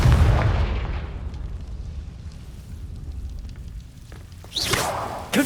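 Confringo fire-blast spell from Hogwarts Legacy on PS5: a heavy booming burst at the start that fades into a rumbling tail, followed near the end by a second sharp whooshing blast.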